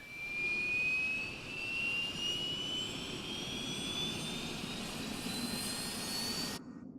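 An aircraft ground power unit runs beside an AVRO Vulcan B Mk.2 bomber in Microsoft Flight Simulator, giving a steady loud whining hum with a rising high tone over a broad noisy roar before it stops abruptly.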